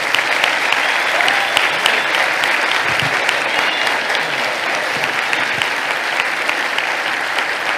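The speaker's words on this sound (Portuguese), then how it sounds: "Queria que você aplaudisse a vida do pastor Disseu." A congregation applauds a pastor during a farewell communion service at church, steady sustained clapping from many hands filling the room throughout, loud and continuous.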